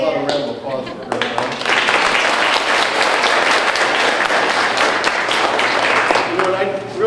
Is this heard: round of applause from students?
yes